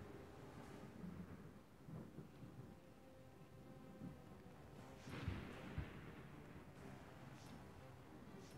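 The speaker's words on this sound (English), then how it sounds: "Now there's some kind of storm going on." A storm with low thunder rumbling through steady rain-like noise, a stronger crack and boom arriving about midway before rolling off into a continuous dull roar.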